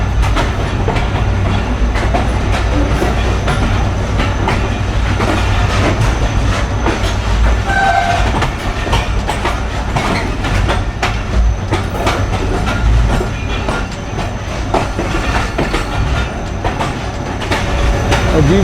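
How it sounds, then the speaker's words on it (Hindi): A container train approaches Kanpur station, its steady, loud rumble and rhythmic wheel clatter over the track filling the whole stretch without pause. "बड़े मज़ेदार ट्रैक सॉन्ग के साथ ट्रेन अप्रोच बना रही है कानपुर में"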